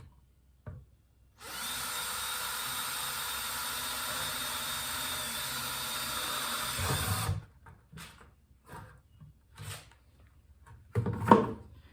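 A power drill boring a hole into the top of a plastic bucket: one steady, loud whirring run of about six seconds, then stopping, followed by a few faint handling knocks and a short clatter.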